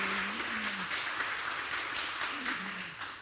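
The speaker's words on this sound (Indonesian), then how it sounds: "Tepuk tangan dulu untuk Bukit Doa." An audience at a Bukit Doa drug rehabilitation event applauds, dense clapping that keeps going throughout with a voice speaking over it.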